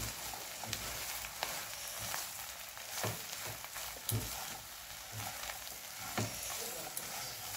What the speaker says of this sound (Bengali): এই সবগুলোকে সুন্দর করে মাখিয়ে এটা দিয়ে আর একটু এবার ভেজে নেব।